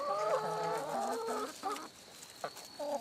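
Several chickens cluck and chatter close by in a coop, with a Polish rooster among the flock; bursts of clucking come in short phrases with brief pauses between them.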